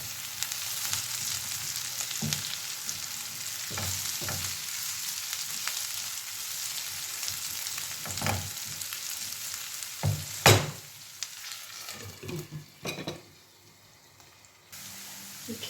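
Shredded cabbage and pepper fry in a pan with a steady, close sizzle, broken by repeated scraping stirs and a loud clatter late on, before the frying fades quieter at the end.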